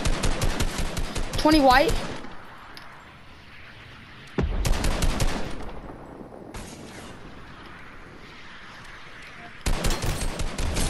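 Rapid gunfire bursts from a Fortnite build fight, loud machine-gun-like volleys at the start, around the middle and again at the end, with a player talking over the shooting.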